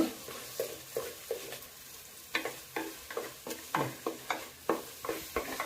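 Ground raw masala for a shark gravy frying in a pan, a spoon scraping and tapping in a steady rhythm over a faint sizzle, quiet and close, no voices.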